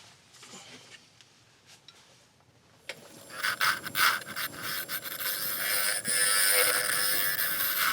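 A carbide woodturning tool scrapes the bottom of a scrap wood bowl on a lathe, quiet at first, then a rising, rough, hissing rasp that grows louder and steadier toward the end.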